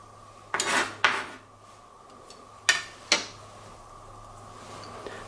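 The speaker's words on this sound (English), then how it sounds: "I'm mincing it. I'm cutting it into very tiny pieces." A knife strikes a cutting board while fresh parsley is minced, four sharp wooden chops in two pairs with quiet pauses between, close and crisp with no talk.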